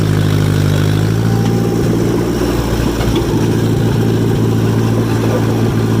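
A John Deere 1010 bulldozer engine runs steadily at a low, even idle, a loud close rumble throughout with no talking.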